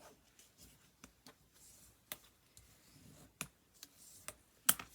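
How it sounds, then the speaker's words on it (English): Paper being folded along a score line and burnished flat while making an accordion file folder folio, heard as faint scattered rubbing and crisp ticks with sharper snaps near the end, no talk. "So I'm going to fold and burnish."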